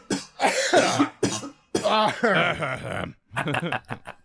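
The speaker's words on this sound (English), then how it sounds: "Let's all have a good cough." Several bursts of coughing from people close by, overlapping and broken by short pauses, with voices mixed in.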